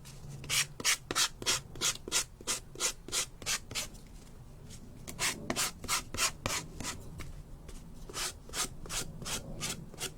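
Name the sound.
sanding down the edges of a laser-cut plaque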